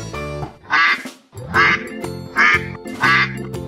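Toy duck quacking electronically, four evenly spaced loud quacks in a steady rhythm, close and clear with no talking over them.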